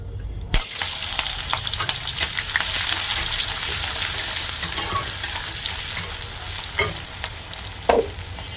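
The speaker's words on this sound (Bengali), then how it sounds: "পেঁয়াজটা অনেকটা ভাজা হয়ে গেছে" Steady hiss of onions frying in hot oil with cardamom, cloves and cinnamon, with occasional scraping and clinks of a spoon stirring the pan, no voices.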